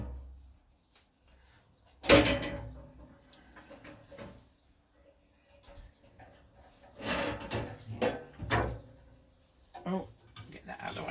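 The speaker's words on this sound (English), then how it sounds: "Get the doors open and" Wooden workshop cabinet doors opened by hand, with a sharp knock near the start and a few more clunks and rattles of the doors later on, set against a quiet room.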